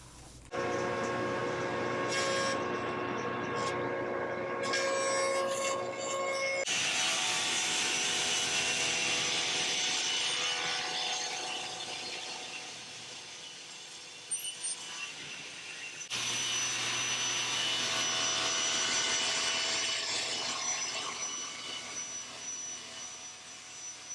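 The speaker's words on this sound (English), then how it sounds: "I felt the router tearing in, but I just kept on going" A router cuts across an end-grain cutting board of maple, walnut, padauk, wenge and purpleheart, giving a loud, steady whine with grinding and tearing that dips briefly before surging back.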